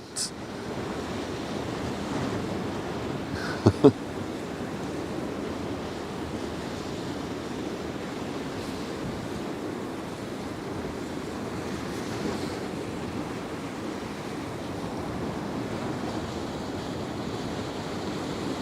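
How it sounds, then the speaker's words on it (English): Sea waves splash over the bow of a ship on the Westerschelde, a continuous broad wash of surf and wind buffeting, with a couple of brief knocks near the start. "the waves splashing over the front"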